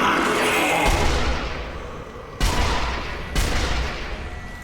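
Sniper rifle shots in the video game Sniper Elite: Nazi Zombie Army. Three loud, close blasts are spaced a second or two apart, each followed by a rumbling, echoing decay.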